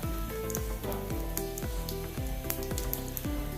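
Mustard seeds, cumin and dried red chillies sizzle and spit steadily in hot oil for a North Indian dal tempering, a dense continuous crackle with no voices over it.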